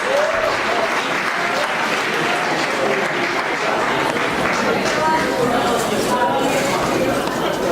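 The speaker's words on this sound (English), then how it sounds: "please give Assemblywoman a nice round of applause" Audience applause for an assemblywoman at a birthday celebration, a dense, steady round of clapping filling the room for the whole stretch with a murmur of crowd voices underneath.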